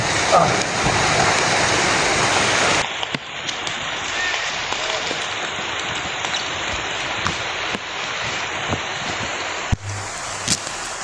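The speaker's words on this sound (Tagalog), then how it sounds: "Lakas ng ulan." Heavy rain pours down steadily in a dense, hissing roar, with a brief louder burst at the start and a few faint voices underneath.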